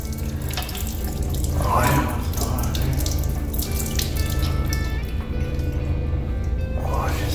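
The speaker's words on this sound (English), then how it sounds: "Water." A water tap runs in a room with a floor drain beside an old Crane toilet, giving a steady close splashing stream while someone speaks briefly over it.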